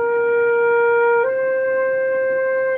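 Flute playing two sustained notes slurred together without tonguing, a clear steady tone that shifts smoothly to a slightly higher pitch midway, close and solo.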